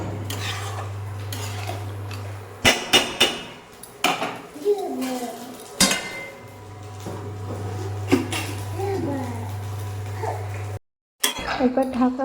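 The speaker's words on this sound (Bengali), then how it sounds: "একবার ঢাকা খুলে একবার নেড়ে দিচ্ছি" A pot lid is lifted and a banana-flower curry with fish head is stirred in the pot, with sharp metallic clanks and scraping of a spoon against the pot in irregular bursts over a low hum; a voice speaks between the sounds.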